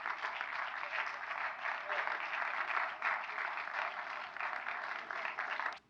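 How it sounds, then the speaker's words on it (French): Sustained heavy applause from a large audience at a film festival press conference for Jean-Luc Godard's Prénom Carmen, dense and steady throughout before cutting off abruptly at the end. "c'est les gros applaudissements dans le film de M."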